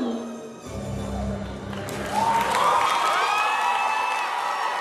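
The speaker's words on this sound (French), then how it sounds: "On l'applaudit bien fort, s'il vous plaît." A festival audience at a costume show in Nice breaks into applause and cheering, starting as a low murmur and then swelling into loud, sustained clapping with whoops and shrill high calls layered over it.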